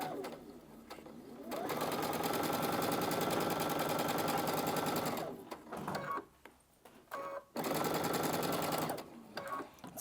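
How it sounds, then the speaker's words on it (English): A sewing machine stitches pinned quilt pieces in long, rapid, buzzing runs, a loud steady whir that stops briefly for small pauses and handling noises before starting again. "by having those pins in, I could almost just keep sewing without stopping"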